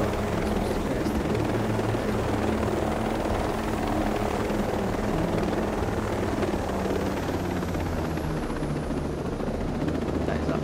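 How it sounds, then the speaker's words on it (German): A helicopter flies in the Ghost Recon Breakpoint video game, its loud, steady rotor and engine roar filling the whole stretch without a break. "jetzt kommt gleich der erste Heli"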